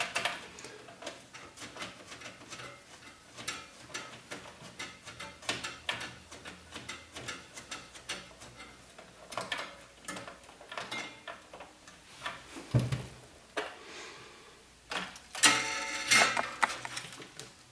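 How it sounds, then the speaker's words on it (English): Screws being driven into a PC motherboard during a budget gaming PC build, heard as a steady run of small, close metallic ticks and clicks with brief scraping, no talk over it. "It is quite a tight fit trying to get these screws in"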